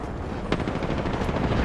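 Rapid gunfire in the video game Apex Legends, a dense burst of shots rattling continuously through a short, loud stretch of noisy battle sound.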